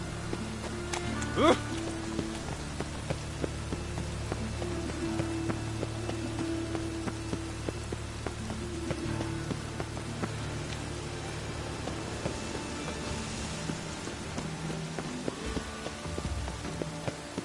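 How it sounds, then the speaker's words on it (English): Rain falling in a medieval city setting from The Witcher, a steady soft hiss of drops with faint clip-clop and scattered background sounds beneath. "The rain will ruin it."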